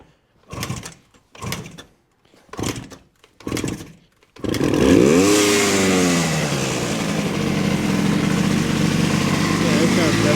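A 1970 Suzuki T350 motorcycle engine sputters through four short kick attempts, then catches and runs steadily, loud and continuous, with a rising rev at first.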